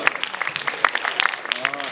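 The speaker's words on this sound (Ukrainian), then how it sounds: "Вітаємо оплесками Юрій Панін, Юрій Глигало." Clapping from an audience at a dating ball as jury members are welcomed onto the stage, a short burst of scattered, fairly close applause.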